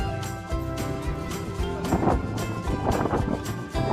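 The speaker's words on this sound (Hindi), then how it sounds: "बहुत तेज हवा।" Very strong wind blowing at a dam, a steady loud roar with buffeting gusts across the whole stretch.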